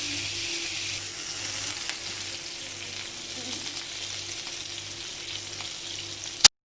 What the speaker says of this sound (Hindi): मैंने रख दिया है चूल्हे पे तवा और इसके अंदर डाल रही हूँ मक्खन।